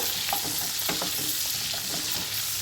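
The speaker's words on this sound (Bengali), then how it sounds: "ভালো করে নাড়িয়ে চাড়িয়ে নেবো একটু রং ঘটলেই হবে" Onions frying in oil for a soya chunks curry, stirred briskly so the utensil scrapes and knocks against the pan over a loud, continuous sizzle, close up with no talking.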